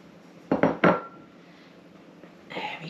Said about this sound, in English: I'm just going to use this little bowl just to cut them round.